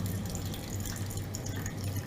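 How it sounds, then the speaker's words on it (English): Water drips through a wetted paper coffee filter into a glass decanter, a continuous soft trickle and patter heard up close over a low steady hum, with no voices. "the sound of the dripping water into the decanter"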